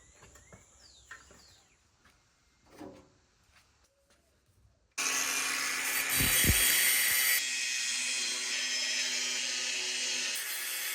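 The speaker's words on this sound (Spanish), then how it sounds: "debes de tomar medidas y cortar el sobrante de cada lateral" Excess is cut from the side of a sandwich roof panel: after several seconds of quiet outdoor ambience with a few soft knocks, a loud, continuous harsh cutting noise starts abruptly and runs steadily to the end, close by.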